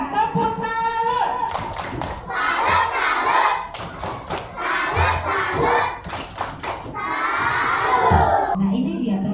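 A class of children performs a 'tepuk salut' chant, with loud rhythmic clapping and thumping mixed into excited group shouting and cheering close by.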